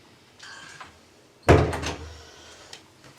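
A house door opens to let a cat in, with a faint creak and then a single loud thump and rattle of the latch, followed by a short fading rustle in a quiet room.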